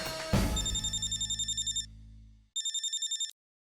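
An outgoing call rings on a phone's speakerphone in a Hindi family sitcom, with two bursts of bright electronic trilling over a steady hum and a brief clatter at the start.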